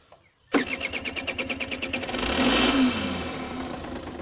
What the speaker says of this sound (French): je vais vous faire écouter le démarrage